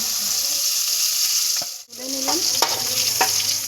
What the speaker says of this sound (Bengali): তেলের মধ্যে এবার আমি এঁচোড় আর আলুগুলোকে ভেজে নেব।